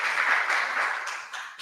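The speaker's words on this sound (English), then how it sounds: "I think we deserve a clap." Audience applause at a Kenyan bank's full-year financial results presentation, a brief, moderate burst of clapping from a seated crowd that tapers off after under two seconds.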